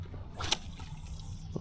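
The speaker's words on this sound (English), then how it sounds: "Kind of thwacked that across the water, but meant to more skip that than anything." A fishing lure thwacks across the surface of a cold backyard pond in winter, making one brief, faint splash against a quiet outdoor background.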